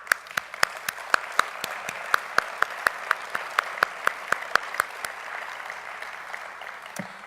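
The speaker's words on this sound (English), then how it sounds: "may I have a round of applause for them" Audience applause at a principals' conference honoring past association presidents: sparse, distinct claps ring out in a steady scattered rhythm, tapering off after about five seconds in a large hall.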